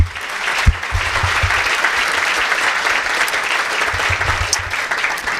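An audience at an evening public presentation applauds, a dense sustained wash of clapping from many hands that continues steadily throughout, with a few sharper nearby claps.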